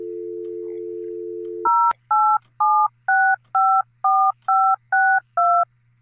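Telephone keypad in the game Loveland: a steady dial tone plays, then breaks off into ten crisp, evenly spaced dialing beeps, each a short loud two-tone burst, with a faint low hum underneath and no one talking.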